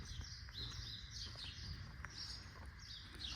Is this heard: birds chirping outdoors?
yes